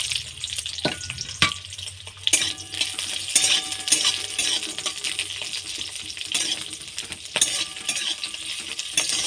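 Sliced onions and green chillies sizzle lightly in hot oil, a bright continuous crackle with occasional clinks and scrapes of a utensil against the pan, close up and alone.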